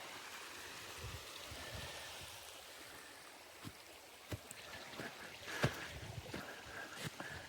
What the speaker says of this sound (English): This is the top of the falls here. This gently rolling falls.